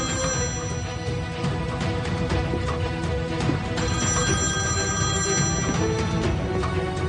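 A telephone bell rings loudly and steadily for several seconds in a drama scene, its repeating trill carrying on without any talk.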